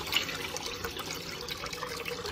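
Lentils and basmati rice being rinsed under running water, a steady close wash of trickling and splashing water that continues without pause.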